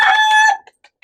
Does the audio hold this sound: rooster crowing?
yes